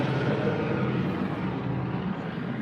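A police helicopter circles overhead during a K9 search, giving off a steady, moderately loud rotor and engine drone with no talk.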